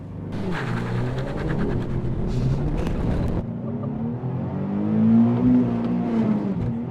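A Nissan 370Z on the road during a clutch test, its engine rumbling and revving up and down at close range, with rising and falling pitch as gears are worked, no voices over it.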